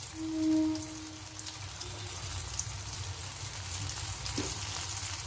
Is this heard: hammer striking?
no